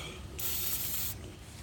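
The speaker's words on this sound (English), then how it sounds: "Spray a little in there, spray a little in here, and then on that, and just let it go to work." A short burst of aerosol spray hissing onto the tailgate of a 2002 Dodge Ram 1500, close and steady for under a second before cutting off, with no talking.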